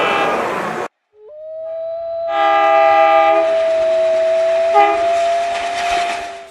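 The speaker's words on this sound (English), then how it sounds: "Scary streetcar." A toy streetcar sounds a long sustained horn-like tone after a sharp cutoff, held steady for several seconds with a rising mechanical rattle underneath, close and fairly loud.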